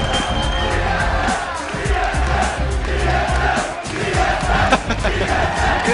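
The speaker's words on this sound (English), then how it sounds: "This entire crowd here completely behind them" A large esports arena crowd at the 2013 League of Legends World Championship roars and cheers continuously after a TSM victory over Lemondogs, with loud sustained shouting and whoops while a commentator talks over it.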